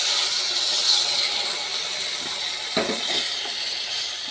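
Water poured into a hot pan of frying ivy gourd sets off a steady, loud hiss of sizzling steam that runs throughout, with a few brief clatters partway through.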